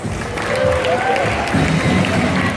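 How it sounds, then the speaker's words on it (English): An audience at a live stunt show at Universal Studios gives volunteer contestants a round of applause, with crowd noise and cheering throughout. "Ladies and gentlemen, give them a round of applause"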